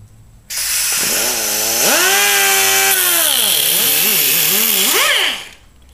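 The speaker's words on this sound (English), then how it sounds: "use the air cutoff wheel, which leaves you a nice, clean," An air-powered cutoff wheel slices through a stainless braided brake line with a loud, steady whine that rises and falls in pitch as the disc loads and frees up, running about five seconds alone before stopping.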